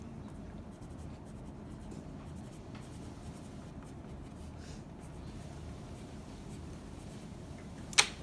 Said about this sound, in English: why don't you write that down right there?